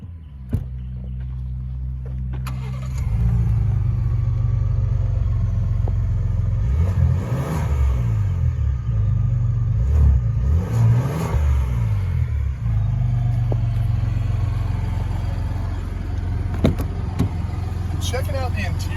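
A 2024 Lincoln Navigator Black Label with a 3.5-liter twin-turbo V6 cold-starts after a short quiet lead-in: a crank catches into a loud rumbling flare, the revs swell and dip a few times, then settle into a steady low idle.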